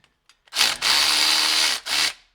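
A Durofix G12 12V extended cordless ratchet whirs loudly in two close bursts, a long steady run followed by a short one, each starting and stopping abruptly with no voices.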